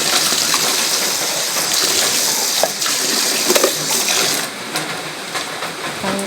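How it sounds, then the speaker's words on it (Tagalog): Steady, dense rain hisses and patters throughout, loud and close, with occasional sharper drips over the continuous wash. "yung ulan ay medyo malakas po siya"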